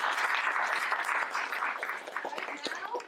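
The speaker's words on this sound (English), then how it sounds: "Let's give them a round of applause." A pitch-contest audience claps for five competing student teams: a dense wash of applause that holds steady, then thins into scattered individual claps toward the end, with some background chatter mixed in.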